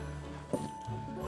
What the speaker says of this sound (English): Sorry for the banging of the bowl on the marble thing.